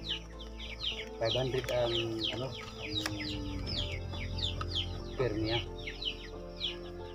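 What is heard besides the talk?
chickens clucking, silkie and Rhode Island Red cross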